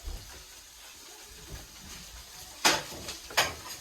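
Moose meat fries in a pan with a faint low sizzle, broken near the end by two louder bursts of spattering hiss, close by and without talk.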